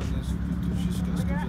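A car reverses slowly into a garage while someone guides it, its engine a steady low hum close by, with voices talking over it.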